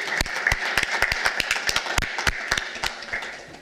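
Applause from a small audience at an economic and business conference session: scattered, sparse hand claps in an irregular rhythm, moderately loud and with no voices.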